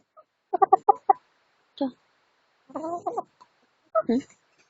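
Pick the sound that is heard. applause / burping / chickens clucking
chickens clucking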